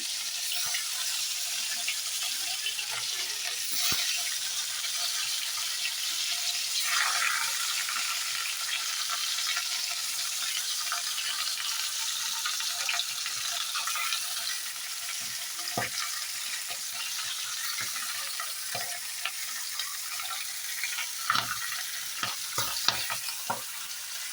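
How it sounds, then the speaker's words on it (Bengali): Fish sizzle in hot oil in a pan, a dense steady crackling hiss that carries on for a long stretch up close, with a few faint clinks and no voices. "তেল গরম হয়ে গিয়েছে, মাছগুলো ছেড়ে দিচ্ছি।"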